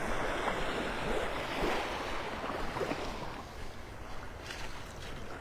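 Surf rolls in continuously with an incoming tide at Delnor-Wiggins beach in North Naples, Florida, a broad wash of breaking waves with wind rumbling across the microphone; no talking.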